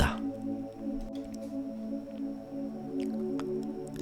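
Water drops dripping in a cave, scattered single drips over a low sustained resonant drone, sparse and echoing, with no voices.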